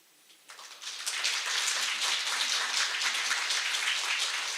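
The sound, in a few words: audience applause at conference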